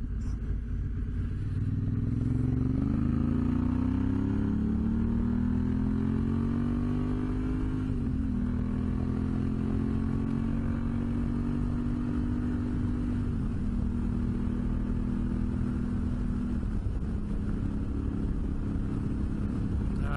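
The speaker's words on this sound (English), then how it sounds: "Bike is running great, as expected." A motorcycle cruises along an open road through desert country, its engine drone climbing in pitch as it accelerates and then holding steady, with shifts in tone along the way and constant wind rumble underneath.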